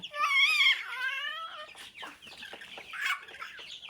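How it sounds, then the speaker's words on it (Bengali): Month-old Egyptian Fayoumi chickens on a farm cluck and squawk up close, with a burst of rising calls at the start followed by scattered, quieter clucks and one more sharp squawk near the end. "আমার সামনে যে মুরগিগুলো দেখতেছেন এটা মূলত মিশরি ফার্মের মুরগি"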